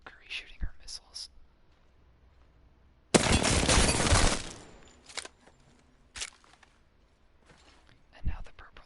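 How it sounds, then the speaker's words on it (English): Valkyrie firing her missile barrage in the Apex Legends firing range, a dense roaring burst lasting over a second amid scattered softer game clicks and whispered commentary. "that's some random Valkyrie shooting her missiles"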